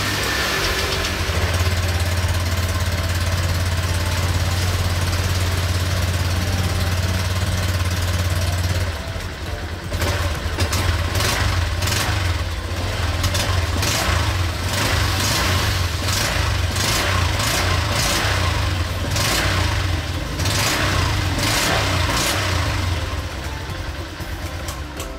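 A Honda Click V3 scooter with its stock exhaust pipe runs close by, first a steady, humming idle, then a sequence of throttle blips that rise and fall with rapid bursts; no speech.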